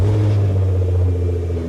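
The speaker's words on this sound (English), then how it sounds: "Engine, start." A Lexus LX570 engine idles steadily after starting, a loud, continuous low rumble with a faint whir, close by and without talk.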